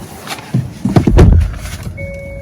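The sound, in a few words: getting into a Hyundai Elantra hybrid car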